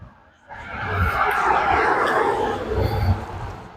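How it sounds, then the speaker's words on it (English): Cars pass outdoors on a road with broadband tire and engine noise, rising after a quiet start and staying fairly loud and steady for several seconds, with no talking. "if these car noises are really annoying"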